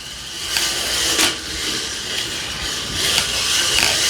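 A loud remote-control car runs on an indoor test track, giving a steady high whine with several sharp bursts as it accelerates and brakes, close and continuous, with no talking.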